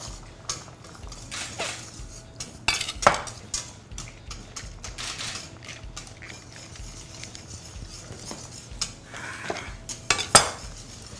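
A spoon clinks and scrapes against a metal pot in irregular bursts, stirring red curry paste into boiling coconut cream steadily, with occasional louder knocks.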